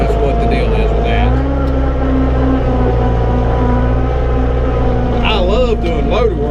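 A small tractor with a CVT transmission runs steadily through loader work, its engine holding a loud, continuous drone with slight load changes, and a brief burst of higher mechanical whine near the end.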